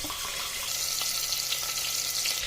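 Cumin seeds, curry leaves and shallots fry in hot coconut oil in a pan, giving a steady, close sizzle with a crackling hiss. It runs unbroken and no one speaks over it.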